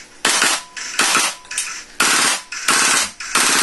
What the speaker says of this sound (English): So here's a demo of the recoil with the new heavy recoil kit.